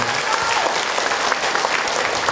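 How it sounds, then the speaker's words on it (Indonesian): A women's audience at an Islamic religious talk claps for the mothers, a loud, continuous burst of many hands clapping close by with no talk over it. "Tepuk tangan atuh buat bunda semua"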